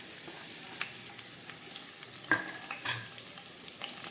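Bay leaf, chili and chopped onion frying in a pan over low gas, a soft continuous sizzle with a couple of sharper scrapes from stirring, no voices.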